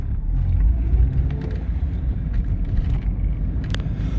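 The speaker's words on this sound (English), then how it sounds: "we'll take the car for a quick spin here" A 1996–2000 Honda Civic with a warped brake rotor on a test drive, steady low engine and road rumble from inside the cabin with faint intermittent clicks.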